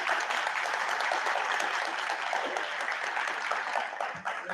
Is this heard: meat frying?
no